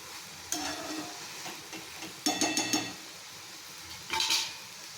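Spring onion greens cook in a pan and are turned over and stirred several times. Quiet sizzling runs underneath, broken by sharp scrapes and clinks of a utensil against the metal, with no voices.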